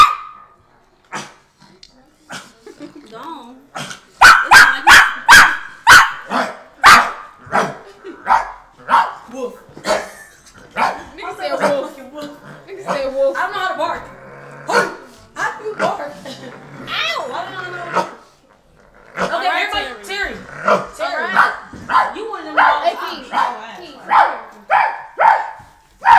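Someone imitates a dog with a run of loud, sharp barks close by, followed by people talking and more playful barking sounds mixed in.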